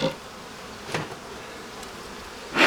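Honeybees buzz over a beehive's cover board, a continuous hum with a few louder passes close by and no voices.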